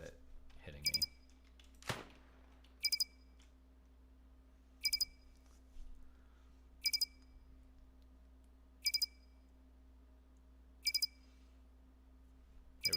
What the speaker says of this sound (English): You could also use a dispatcher to turn off that beeping in your console.